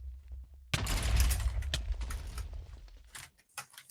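Gunfire bursts in an esports draft tourney match between Boys' Locker Room and Midnight Snacks, with shots from a player landing headshots: a dense burst of firing after a quiet start, then scattered sharper shots trailing off.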